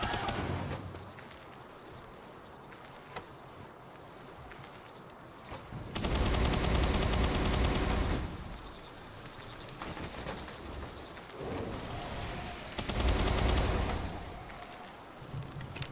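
Gunfire from the Tornado weapon in PalWorld comes as two loud, dense rapid-fire bursts, each lasting a couple of seconds, set between quieter stretches of ambient game sound.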